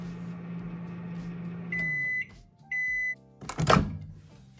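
Microwave oven hums steadily while cooking eggplant, then gives two clear electronic beeps followed by a short clatter and a low continuing hum; no talking.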